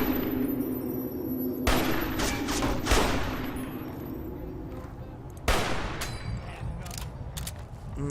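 Gunfire from Fallout New Vegas, set around Primm: loud shots and bursts with booming tails over a steady in-game background hum, one big blast near the start and another late in the stretch.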